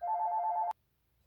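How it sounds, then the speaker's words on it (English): A telephone rings indoors as a single steady electronic bell tone, fairly loud and close, that cuts off abruptly after under a second, leaving near silence. "Phone."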